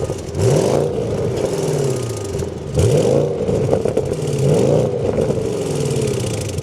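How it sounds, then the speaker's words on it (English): A 2025 Audi S8 V8 starts up and revs, with repeated rising and falling exhaust swells and a deep rumble at idle between the blips, heard close and alone. "let's fire this up, take a listen to that V8"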